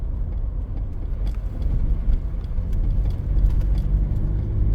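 A mid-sized pickup truck drives along a muddy wilderness trail at night, its engine a steady low rumble with mild surges and rough road noise, close and continuous with no talking.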